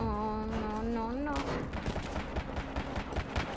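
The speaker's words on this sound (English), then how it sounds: "That gun, though. Sounds epic." Gunfire in the video game Battlefield Hardline: a rapid burst of close, punchy shots in the second half, following a stretch of tonal game sound, with a voice talking over it.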